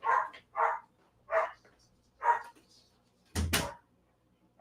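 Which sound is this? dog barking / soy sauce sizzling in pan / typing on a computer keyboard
dog barking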